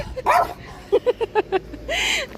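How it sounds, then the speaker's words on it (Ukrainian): A small dog barks in a quick burst of five short, sharp yaps nearby, bracketed by a couple of longer yelps or whines. "Гавкає, ти чуєш яка?"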